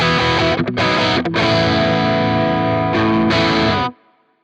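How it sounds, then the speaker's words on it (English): Crunchy, mildly overdriven electric guitar tone from a CorOS 3.0.0 preset, chugging chords with brief stops, loud and up close, ending in a quick fade. "Next, we've got our crunch sound on scene B."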